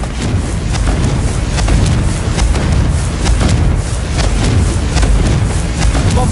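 Continuous dense rumbling blasts from Confringo fire spells in the Hogwarts Legacy video game, loud and sustained with repeated crackling impacts layered throughout.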